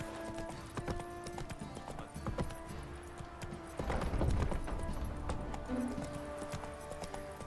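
Horse hooves clip-clopping in The Witcher 3 video game, a run of distinct hoofbeats with a brief louder scuffle midway, fairly quiet and steady with no talk over it.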